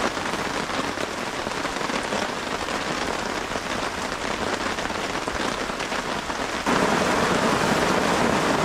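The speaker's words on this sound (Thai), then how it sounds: "กลางเต็นท์ยังไม่ทันเสร็จฝนตกอีกแล้ว" Steady, heavy rain falls around a tent at a campsite beside a stream, a dense, constant patter that swells louder near the end with no voices.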